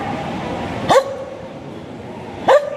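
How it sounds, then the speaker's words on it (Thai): A stray dog recovering from surgery for a uterine infection gives two short, sharp yelps or barks about one and a half seconds apart, close and fairly loud over a steady room background. "ไม่ต้องเห่าไม่ต้องเห่าไม่ต้องเห่าไม่ต้องเห่า"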